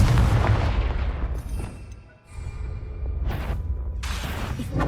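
Confringo blasting spells in Hogwarts Legacy burst as loud, booming explosions, with a heavy rumbling blast at the start, a brief lull, and then more sharp impacts close by.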